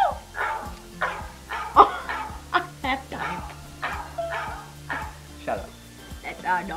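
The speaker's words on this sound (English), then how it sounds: "That's our dog actually." A dog barks repeatedly and close, a quick series of sharp woofs and yips at an irregular rhythm, with a person speaking briefly over it.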